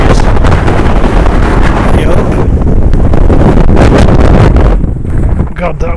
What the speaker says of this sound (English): God, that wind's cold.